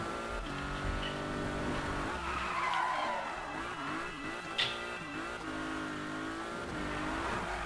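Cars race in a video game minigame, with engines droning and revving over sustained tire skidding and squealing, loud and continuous with no voices.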